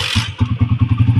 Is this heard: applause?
no